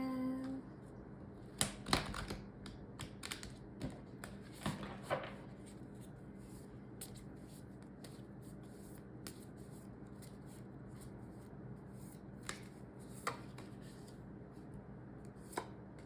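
A deck of tarot cards is shuffled by hand during a reading: quiet, scattered riffles and soft card slaps, with a few sharp taps early on and then sparse clicks over a low, still room.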